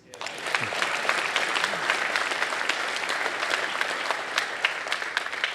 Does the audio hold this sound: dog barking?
no